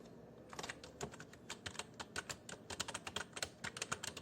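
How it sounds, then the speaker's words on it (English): Typing on a computer keyboard while entering slide text in PowerPoint: rapid, close, crisp key clicks in an uneven continuous rhythm, with no voice. "Here I type"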